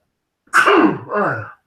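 A single loud, close sneeze in two parts, a sharp burst followed by a softer trailing exhale, with silence before and after.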